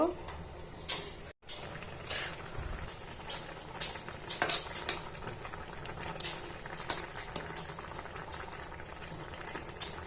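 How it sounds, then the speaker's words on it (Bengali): A pot of tilapia fish curry with yardlong beans boils vigorously, a close, continuous bubbling broken by occasional louder blips and a brief stir or clatter. "বলক চলে আসছে"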